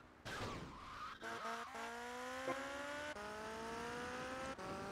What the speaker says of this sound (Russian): просто прокатимся на мотоцикле